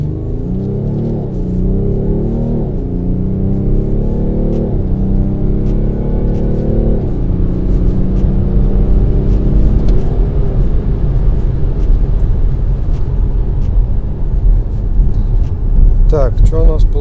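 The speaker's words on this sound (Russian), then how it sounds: "если вы просто решили нажать на газ, стоите на светофоре и решили нажать на газ в пол" A BMW X5 M50d F15 launched at full throttle from a standstill, loud diesel engine roar climbing through several gear changes in the first seconds, then settling into a sustained heavy drone with faint talk underneath.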